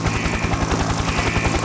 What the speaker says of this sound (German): Das war ein Helikopter.